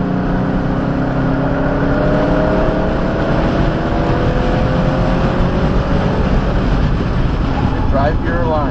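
A 2018 Alfa Romeo Giulia Ti Sport accelerates on a racetrack at Brainerd International Raceway, its engine note loud and close, rising steadily in pitch under the throttle.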